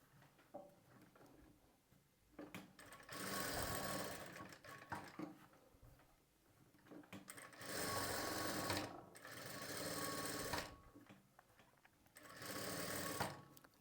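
A sewing machine stitches lining fabric in three separate bursts of quick, even whirring, close up and fairly loud, with quiet handling noises in the pauses between runs.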